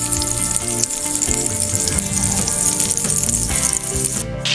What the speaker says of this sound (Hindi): इसी तरह सभी चिकन के ऊपर मसाले को लगा लेना है और एक तरफ से कलर आने तक इसको फ्राई होने देंगे